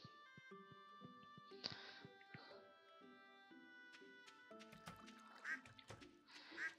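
Duck quacks from the Stardew Valley farming game, a few short nasal calls near the end over steady game music and chimes, with a voice talking throughout.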